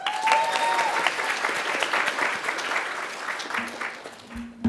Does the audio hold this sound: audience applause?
yes